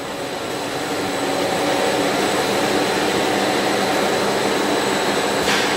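A plastic extrusion machine purging material in a workshop gives off a steady, loud, broadband hiss and roar that holds constant throughout, with no voices.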